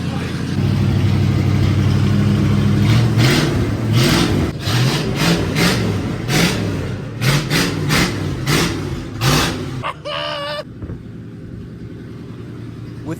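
A 1978 Ford F150 engine with a new exhaust idles, then revs in a series of sharp throttle blips before cutting off, loud and close, leaving a quieter background.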